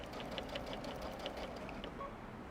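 Sewing machine stitching through a quilt with pre-printed batting, a fast steady mechanical chatter at close range, fairly quiet, no talking.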